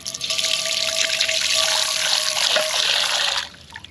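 Water runs steadily from a tap into a sink inside a DIY truck camper, a continuous close hiss filling a spatula left to soak, then cutting off near the end.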